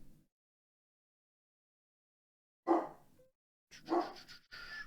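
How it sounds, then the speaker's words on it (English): After a long silence, a dog gives two sharp barks a second apart, fairly close, followed by a brief higher yelp. "Okay, he's barking."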